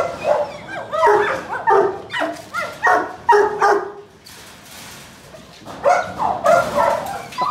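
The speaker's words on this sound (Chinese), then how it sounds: "老犬舍还有4条狗" Presa Canario (Canary Mastiff) dogs bark at a kennel in loud, close, repeated bursts, several barks in quick succession, a short pause, then another run of barking.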